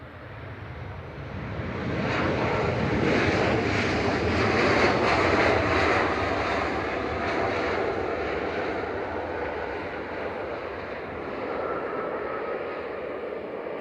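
A Ryanair Boeing 737-800 airliner arriving from Alicante at Manchester Airport roars past, swelling to a loud, broad engine rush around the middle and then fading slowly into a steady distant rumble, with no talking.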